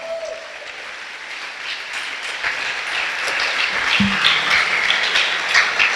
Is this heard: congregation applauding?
yes